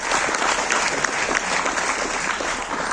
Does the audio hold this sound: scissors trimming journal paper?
no